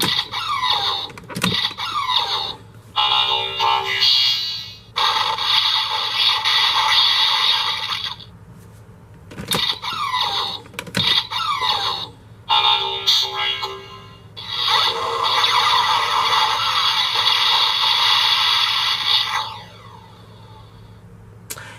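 A Kamen Rider Amazons DX Neo Amazons Driver toy belt blares attack sound effects in bursts: buzzing, squealing tones and synthetic attack noises, separated by brief clicks and pauses.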